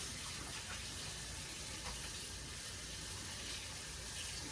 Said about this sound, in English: now I'm just running cold water over them to stop them from cooking any further.